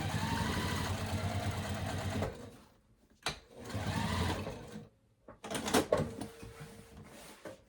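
Sewing machine top stitching vinyl, running in three bursts separated by short pauses, close and fairly loud with clicks and a faint thump between runs.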